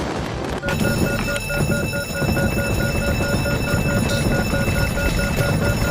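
An aircraft engine fire alarm on a Concorde rings a steady electronic tone continuously over a low rumbling drone, loud and unbroken throughout, with a few faint clicks in the background.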